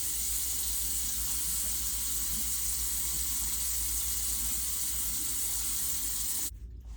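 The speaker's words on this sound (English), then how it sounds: "I'm gonna do a lukewarm water to get the oil off" Lukewarm water runs steadily from a tap for a face rinse after cleansing oil, a close, continuous hissing splash that cuts off abruptly near the end.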